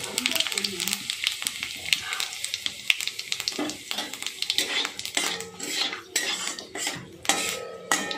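Panch phoron and dried red chillies sizzle in hot oil in a kadai, a crackling fry broken by frequent clinks and scrapes of a metal spoon against the pan.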